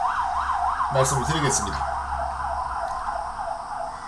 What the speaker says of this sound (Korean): 밖에 앰뷸런스가 지나가네.